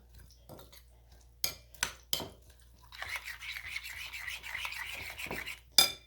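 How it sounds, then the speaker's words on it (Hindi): Egg batter with flour being mixed in a bowl for an omelette, heard as a steady scraping, rasping stir from about the third second, preceded by a few sharp utensil taps against the bowl and ending with one more clink. "और अब आ जाते हैं कि इसमें अच्छी तरह मिक्स कर लेते हैं सारे को"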